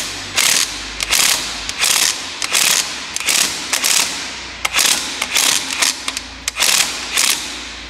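A wrench works at a car spark plug in steady rhythmic ratcheting clicks, repeated bursts roughly every half second, loud and close with no talk.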